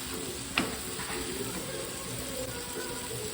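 Onion, tomato, turmeric and salt frying for egg curry in a home kitchen, a soft steady sizzle with a sharp utensil scrape or clink early on and faint stirring sounds.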